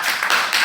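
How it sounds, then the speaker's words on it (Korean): A church congregation clapping during a Sunday service, a brief burst of dense, loud applause with a few overlapping rhythmic swells. "우리 박수 한번 줍시다"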